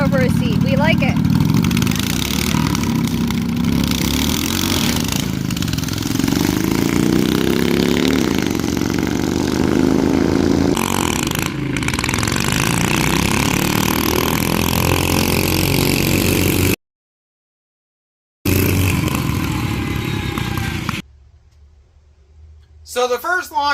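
Homemade Sears dragster with a wheelbarrow seat, its engine revving hard up close and launching in second gear, the pitch climbing and falling through the run before dropping out, with voices heard at times.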